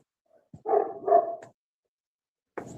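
A dog at a rescue shelter gives two close, loud barks in quick succession, then falls silent before another bark starts at the end.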